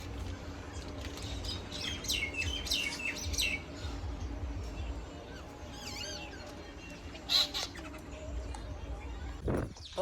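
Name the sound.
birds chirping, crows and sparrows feeding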